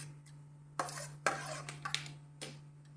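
Mustard seeds and fenugreek tipped into hot oil in a pot, a few scattered spoon scrapes and brief crackling bursts over a low steady hum, quiet and close, with no talk.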